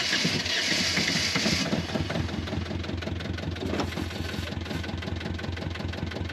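A boat engine turns over and settles into a steady, loud idle with a throbbing low rumble that runs the whole time, close by and with no talk over it.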